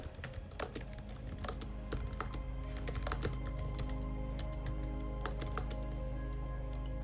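Rapid keystrokes on a computer keyboard, irregular clicks in bursts of typing over a steady low hum, close and fairly quiet with no talking.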